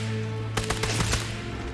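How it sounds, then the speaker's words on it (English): A submachine gun in Sniper Elite 5 fires a quick burst of about half a dozen sharp shots, loud and close, over a steady low ambient hum. "Say hello to my submachine gun friend."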